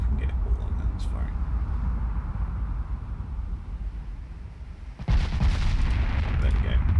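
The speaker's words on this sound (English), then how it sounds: "Let's see if we can get all on guns firing." Battleship main guns firing in the naval game Ultimate Admiral Dreadnoughts: a steady low rumble, then a sudden loud boom around the five-second mark with crackling blasts after it.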